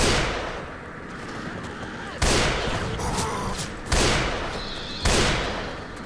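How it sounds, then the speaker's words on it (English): Howitzer in Left 4 Dead 2, three loud booming shots spaced about a second or two apart, each with a long rumbling decay, close and dominant. "Fire the howitzer."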